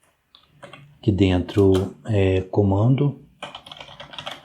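Computer keyboard keys are pressed in a short run of clicks near the end, while someone speaks clearly over most of the stretch before the typing starts.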